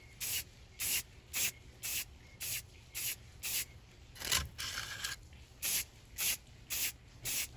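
Short bursts of light spray paint in dark hunter green mist onto jute bottle brush model trees, repeated in an even rhythm of about a dozen soft hissing puffs, faint and close with no talking.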